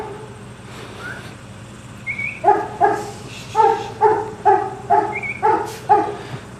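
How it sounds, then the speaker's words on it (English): A sheepdog on a sheep farm barks about nine times in a quick, uneven series, moderately close, over a low background hum. "I hear the dog barking"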